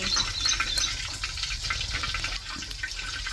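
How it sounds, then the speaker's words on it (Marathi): Wet, rain-soaked firewood burns in a clay village stove, with water hissing and sizzling out of the logs in a steady, close, unbroken stream of fizzing noise. "ते लाकडातून पाणी येतंय बाहेर. लाकडातून पाणी निघत"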